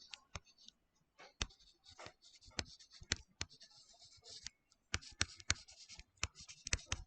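Chalk or marker tapping and scratching across a board during an accounting lesson on a cash flow statement, a string of sharp close clicks and short strokes with brief pauses, no talking.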